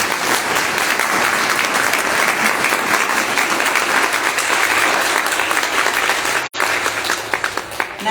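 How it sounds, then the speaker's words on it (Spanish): Sustained, dense applause from an audience at a book presentation, steady and loud for about six seconds, then a brief break before the clapping resumes more sparsely. "Vamos a dar un fuerte aplauso a la maestra Susana Vélez."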